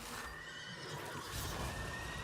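A horse whinnies and neighs in a video game, the call heard faintly against a steady background bed of game ambience with no talking.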